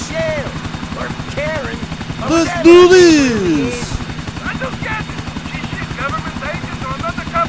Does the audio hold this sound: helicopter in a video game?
yes